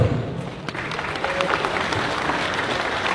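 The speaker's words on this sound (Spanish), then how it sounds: "Daremos un fuerte aplauso para nuestro presidente Evo Morales" A crowd applauds steadily, a dense wash of clapping that holds at an even loudness throughout.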